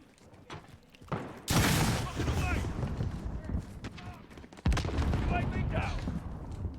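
Call of Duty Modern Warfare on PS4: a grenade blast and gunfire, two loud explosive bursts each followed by sustained rattling shots, with voices in the background.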